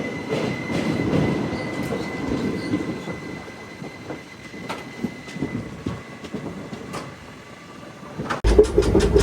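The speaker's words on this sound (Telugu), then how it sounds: "ఇది మన ట్రైన్ వ్యూ" The Narasapur–Hubli Amaravathi Express rumbles along the tracks with a steady roar, rhythmic wheel clatter and a thin squeal, then louder rapid clacking near the end.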